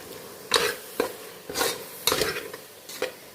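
A spoon stirs chilli, coriander and cumin powders into beef curry in a pan, a handful of distinct scraping strokes over a faint sizzle, near and with no talk.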